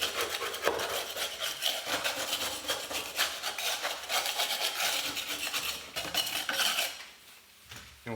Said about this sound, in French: On commence par enlever le plus gros à l'aide d'une spatule.